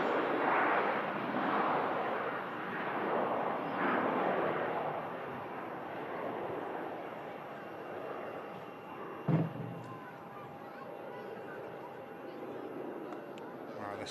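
An EasyJet airliner climbs steeply on takeoff, its broad jet roar rumbling at a distance and slowly fading, with a sharp bump partway through and voices faintly audible.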